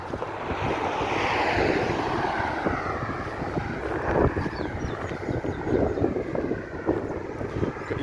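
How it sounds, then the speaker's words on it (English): An airplane taking off at Grantley Adams International Airport in Barbados, a broad roaring engine rush that swells and slowly shifts pitch, heard from some distance over wind and outdoor noise, with no talking. "You must see a plane taking off now."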